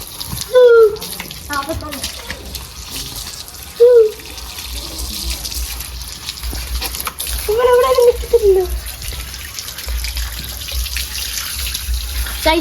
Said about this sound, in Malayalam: പട്ടി കുളിപ്പിക്കുകയാണ്